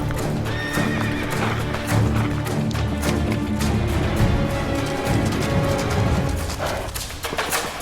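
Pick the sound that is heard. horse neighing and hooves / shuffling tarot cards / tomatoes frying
horse neighing and hooves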